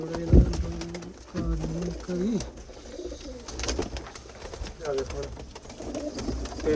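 Pigeons from a champion flock in Tarn Taran coo repeatedly in soft, rolling bursts close by, mixed with other bird calls, while someone talks over them.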